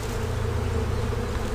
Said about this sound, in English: All the flying bees will come up.